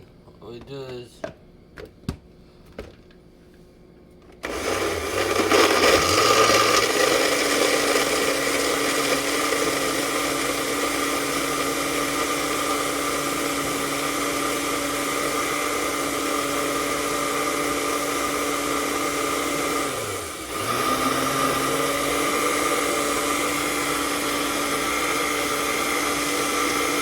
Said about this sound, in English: Then we hook it in our blender.